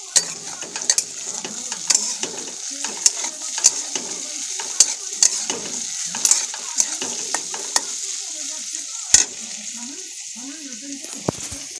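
Food fries in a pan while a spatula stirs it, sharp metallic scrapes and clanks recurring every second or so over a soft sizzle, close and clear.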